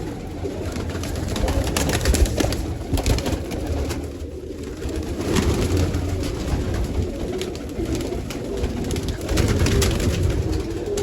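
Pigeons cooing continuously, several birds close by with overlapping low throaty calls, no speech.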